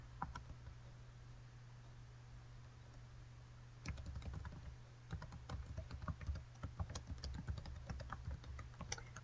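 A computer keyboard being used to type a name and email into a website sign-up form; sparse clicks at first, then a denser, quick run of close keystrokes over a low steady hum.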